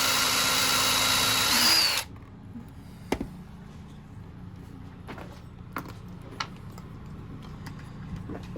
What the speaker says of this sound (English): we are going to drill pilot holes, so we're not going to risk splitting the wood